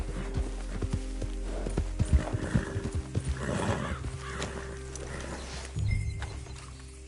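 A horse in Red Dead Redemption, hooves clip-clopping in an uneven rhythm with a whinny mixed in, moderately close over low game ambience and music.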